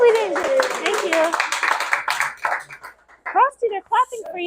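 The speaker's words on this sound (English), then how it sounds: "Frosty, they're clapping for you." A group of people claps in a brief scattered burst, heard close and mixed under ongoing talk, before the clapping fades and speech continues alone.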